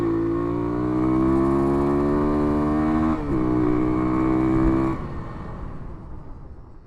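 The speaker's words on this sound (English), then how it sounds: "let me show you the bike acceleration" A Kawasaki KLX300 dual-sport motorcycle accelerating: a loud, close engine note climbing steadily in pitch, dipping briefly at a gear change, climbing again, then easing off as the throttle closes.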